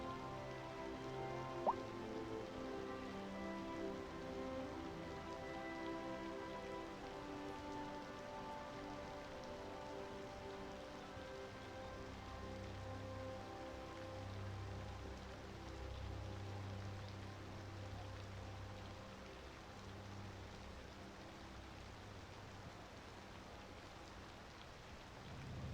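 Rain falling in the city-building game Cities Skylines 2, a steady soft patter on surfaces with a low continuous rumble beneath, unbroken and fairly quiet for the whole stretch.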